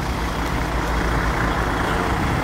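Loud, steady engine rumble of a Kenworth self-loading container truck close by, a continuous heavy drone without pauses.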